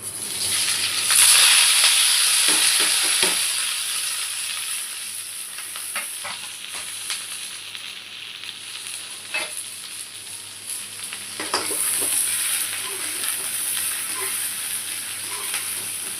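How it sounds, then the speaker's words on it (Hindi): Loud, steady sizzling of pointed gourd dropped into hot oil for tempering, with crackling and occasional stirring clinks, no voices. "तो चलिए जी फटाफट से लगाती हूँ मैं परवल को तड़का।"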